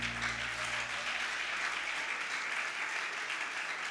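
A church congregation claps together in a sustained, even burst of applause that fills the room, with no pause from start to finish.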